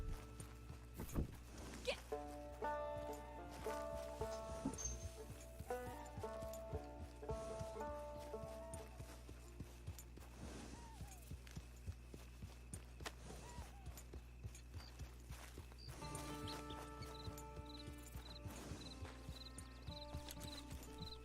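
Horse hooves clip-clop steadily in Red Dead Online, a regular mid-distance walking rhythm running throughout beneath game music and a talking voice.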